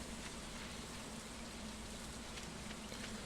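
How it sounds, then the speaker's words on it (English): Rain in the farming video game Stardew Valley, a soft, even patter and hiss that stays faint and steady throughout. "Since it's raining"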